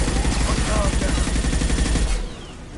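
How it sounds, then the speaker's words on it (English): Heavy, sustained automatic gunfire in the video game Mass Effect 2, loud, close and continuous for over two seconds before cutting off abruptly into quieter ambience. "Taking heavy fire."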